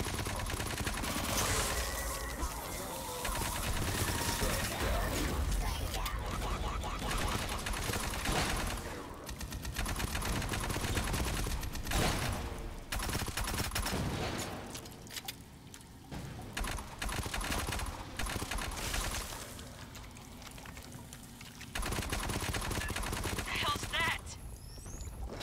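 Sentry guns in a video game firing in sustained rapid automatic bursts with dense clattering gunfire that fills the scene nearly continuously, with players talking over it.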